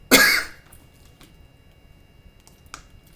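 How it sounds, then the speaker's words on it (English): A single sharp, close cough bursts out at the start, followed by quiet room tone with faint clicks. "I'm coughing."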